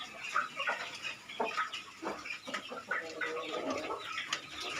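A five-month-old Bangkok rooster of the Black Bull line clucks in short, repeated bursts close by, with no talk over it.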